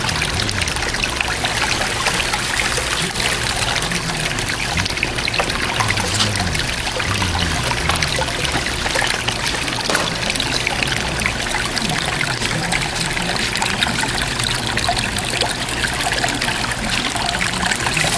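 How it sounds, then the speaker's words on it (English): Water rushes steadily through the hopper of an Angus Mackirk Predator 3 gold concentrator during a clean-up of paydirt concentrates, a loud continuous splashing and trickling stream with no voices. "And I'm going to wash out the hopper."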